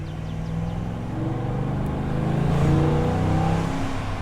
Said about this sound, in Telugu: సో V8 ఇంజన్ కదా, కొంచెం పవర్ ఎక్కువ ఉంది. సో అందుకే నీకు ఆ ఎగ్జాస్ట్ సౌండ్ అంత క్రిస్పీగా వినిపిస్తుంది అనమాట.